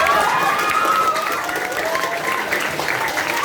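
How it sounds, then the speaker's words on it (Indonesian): An audience at an Islamic Quran memorization lecture gives a religious teacher a short, steady round of clapping mixed with crowd murmur and some voices. "Oh, tepuk tangan untuk Ustaz."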